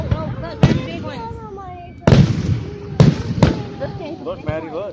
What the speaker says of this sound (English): You know you gonna watch fireworks?